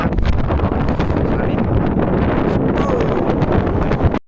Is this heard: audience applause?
no